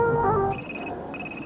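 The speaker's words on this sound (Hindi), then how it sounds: "Bloody phone." Telephone ringing in an office scene of a 1990s Hindi TV serial: two short, bright electronic rings follow a moment of background voices.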